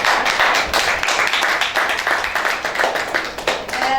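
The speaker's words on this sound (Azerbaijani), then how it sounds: "ürəkdən alqışlayaq və təşəkkürlərimizi buyuraq" Audience applause at a poetry and ashiq art event, a dense steady patter of many hands clapping loudly and continuously throughout.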